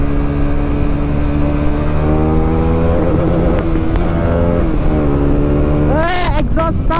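A KTM Duke 390 motorcycle on a highway drag run gives a steady, loud exhaust drone. It shifts pitch midway, then rises in a sharp rev near the end.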